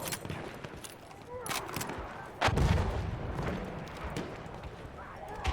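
Gunfire and explosive battle noise from the World War I shooter Battlefield 1, with repeated shots and a heavy blast near the middle over continuous chaotic combat din.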